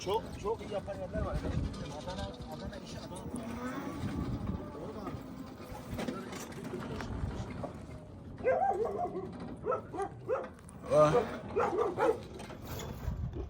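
A dog near a beachfront in Antalya, Turkey, giving a few short barks and yips toward the end, mid-distance, amid outdoor ambience and people talking.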